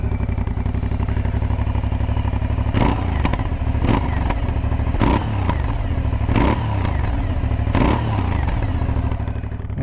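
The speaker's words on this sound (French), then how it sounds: "je vais vous faire écouter les échappements, vous allez voir que c'est plutôt sympa" An idling Aprilia Shiver 900 twin-cylinder motorcycle exhaust thumping steadily up close, with a few sharp throttle blips and clattering pops breaking the rhythm.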